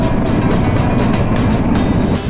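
Silk City Express train rolls past close by, a loud, steady rumble with rhythmic clattering of wagons on the rails.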